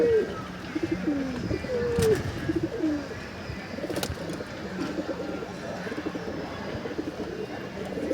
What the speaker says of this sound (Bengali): মাদিগুলো ছাড়া দেখা নরগুলো একটু ডাকাডাকি করতেছে